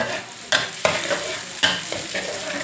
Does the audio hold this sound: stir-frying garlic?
yes